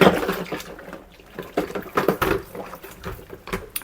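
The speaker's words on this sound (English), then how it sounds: "I'm going to try and rinse this out now" Water runs and splashes while a vacuum cleaner part is rinsed under a tap, giving irregular close spatters and gurgles with a few knocks of handling.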